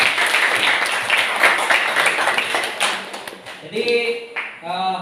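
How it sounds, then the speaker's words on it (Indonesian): Students in a classroom clap for a group presentation, a loud burst of dense applause lasting several seconds before thinning out as a voice begins speaking. "Tepuk tangan dulu untuk kelompok 1 dulu."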